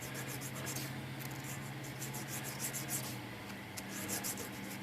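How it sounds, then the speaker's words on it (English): An object is rubbed by hand in a continuous, even, close scraping with light rhythmic strokes and a steady low hum beneath it. "So let me rub this right about there."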